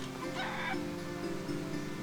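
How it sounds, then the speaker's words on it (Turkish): A rooster crows in the medieval village survival game Medieval Dynasty, a drawn-out tonal call heard over a steady ambient game background, moderately loud and close. "horoz ötüyor"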